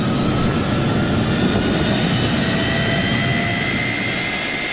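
The right engine of a Boeing 737 starts in the FlyInside Flight Simulator game, a loud steady jet roar with a rising whine that keeps up continuously, with no talk.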